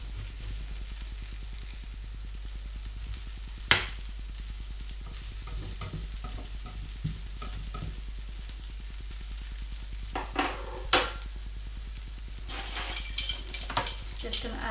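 Vegetable rostis fry in oil in a hot pan, a steady close sizzle running throughout. A few sharper clinks and scrapes of a utensil against the pan come near the end.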